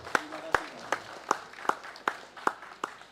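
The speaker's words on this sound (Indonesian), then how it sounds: "Tepuk tangan dulu." Audience at a gathering in Tuban clapping in a slow, steady rhythm, about eight sharp unison claps spaced roughly every half second, moderately loud in a reverberant room.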